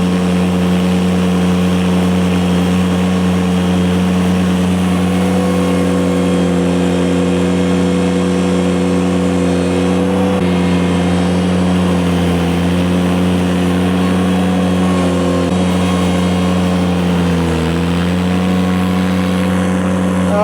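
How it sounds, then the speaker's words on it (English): Ventrac snow blower clearing frozen pavement, a loud continuous mid-pitched engine drone with a steady whirring tone that dips briefly near the end, heard up close with no talking. "See what I mean about efficiency with the blower."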